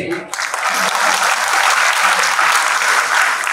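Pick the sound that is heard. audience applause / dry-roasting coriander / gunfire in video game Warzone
audience applause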